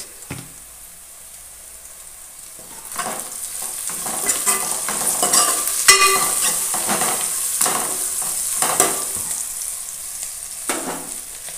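Mint and turmeric being stirred into a frying pan while cooking a chicken curry: steady oil sizzle, with spoon scrapes and stirring strokes growing busier partway through, close and fairly loud, no voices.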